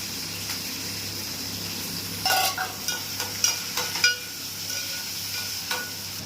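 Bitter gourd pieces fry in a pan with curry leaves and green chillies, giving a steady low sizzle with a few sharp stirring scrapes and clinks partway through.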